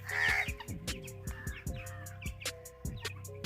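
Domestic ducks and chickens being fed in a farmyard, heard as a busy run of nearby clucks, quacks and short calls, loud at first and then steadier, with no talk.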